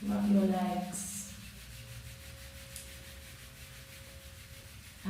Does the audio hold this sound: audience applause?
no